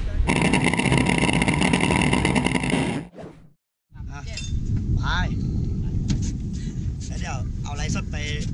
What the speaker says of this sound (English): The drag race boat engines are completely rebuilt after every race.